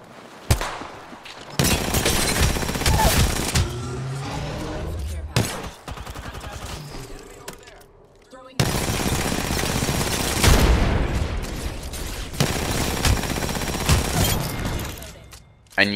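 Heavy video-game gunfire rattles in long, dense bursts of automatic fire, broken by short pauses and sharp single shots, loud and close throughout.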